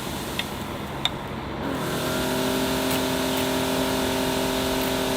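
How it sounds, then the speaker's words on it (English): A greenhouse misting system's fan switches up to high and settles into a steady, loud, close whooshing drone with a tonal hum, following a couple of sharp clicks. "Fan on high. Wow, that really blasts out the humid air."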